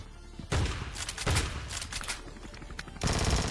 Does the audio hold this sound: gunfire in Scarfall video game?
yes